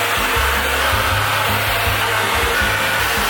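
A hair dryer fitted with a diffuser blows steadily at close range while drying curly hair, a loud continuous whoosh with a low motor hum and no speech.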